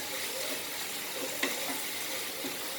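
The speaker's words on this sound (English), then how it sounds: "So it's nicely fried." Carrots frying in a pressure cooker pan for gajar halwa, a steady soft sizzle with a few light stirring clicks, close and even throughout, no talk.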